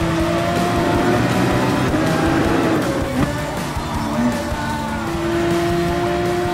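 Multiple race car engines roar continuously in a GT Sport video game GT-class race, loud sustained engine drone with shifting pitch as cars run close together, no talking.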